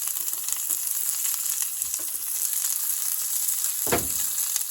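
Onions frying in bacon fat in a skillet give a steady, close bright sizzle with faint crackles, joined near the end by a brief stir or scrape.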